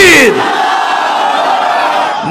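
A large crowd shouts a loud, sustained collective response to a takbir call at a Bangladeshi Islamic religious gathering, the massed voices holding steady after a sharper opening burst.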